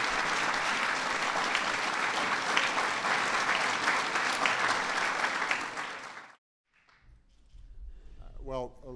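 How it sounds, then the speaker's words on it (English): Sustained audience applause at the National Medal of Technology and Innovation ceremony, loud and steady for about six seconds, then stopping abruptly, with a voice speaking afterward. "let's please give one more big round of applause"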